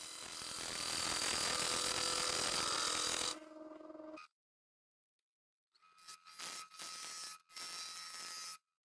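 A wooden hollow form is shaped on a woodturning lathe: a loud, continuous scraping rasp from the cutting tool is followed by a quieter hum, a silent gap, then several short bursts of cutting.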